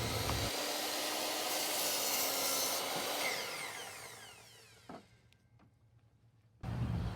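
A power saw cuts through a wooden board while building a warped wall, whining loudly for several seconds before spinning down, followed by a few knocks and a brief restart.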